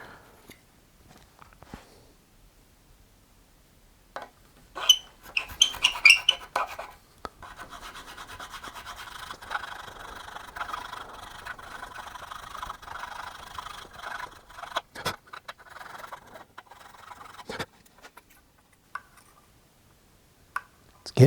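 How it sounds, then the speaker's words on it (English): Filing a guitar bridge nut slot with a slot file, a steady rasping scrape running for several seconds, with scattered clicks and taps of handling before and after. "So I'm just going to continue to file."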